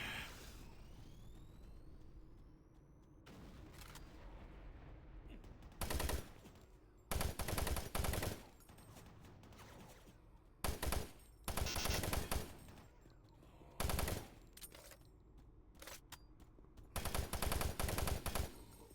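Combat in the video game Doom 3 with grenades and gunfire: loud bursts of rapid automatic fire come in repeated short volleys, separated by quieter stretches of low ambient game noise and faint tones, with no talking.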